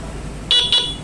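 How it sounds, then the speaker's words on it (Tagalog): Two short, loud blasts from the horn of a Yamaha Fazzio scooter set to its loud mode, close and sharp, the second following quickly after the first. "yung sa busina natin sir, naka-loud ka ba?"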